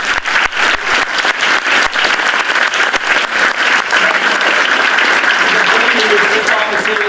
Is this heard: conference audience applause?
yes